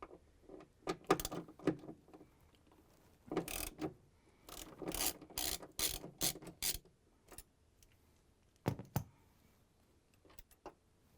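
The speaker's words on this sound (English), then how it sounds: "Next step is to take out this 10 millimeter bolt. I'm using the 10 millimeter socket wrench." A 10 mm socket wrench ratchets a bolt out of a Whirlpool/KitchenAid/Maytag washer gearcase in several bursts of quick, close clicking, separated by short pauses, with no voices.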